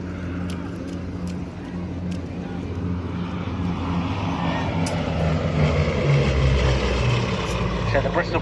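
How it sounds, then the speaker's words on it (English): A Bristol Blenheim Mk I with two Bristol Mercury radial piston engines drones past at an air show, a steady low engine roar swelling louder toward the end, with a voice talking over it. "Powered by two Bristol Mercury radial piston engines rated at 905 horsepower."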